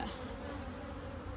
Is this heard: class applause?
no